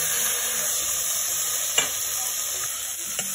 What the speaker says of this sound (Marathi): सो हे आता आपण कांदा छानपैकी फ्राय करून घेऊ.